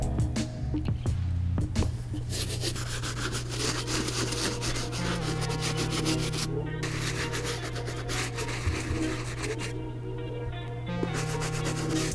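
A medium bristle brush scrubs a white cement Air Jordan 3 sneaker, producing steady, close bristly rubbing and scraping that runs continuously for the whole stretch under a low background hum, with no talking.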